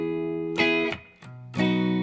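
Electric guitar picking a riff, pick rolled across the strings in two bright, ringing strums with a brief gap between them, played alone.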